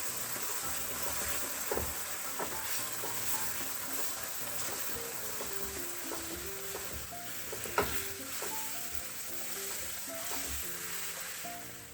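Hot sugar syrup hits water chestnut flour halwa in a pan and sets off a continuous close sizzle with scraping stirring strokes. A faint tonal melody runs underneath throughout.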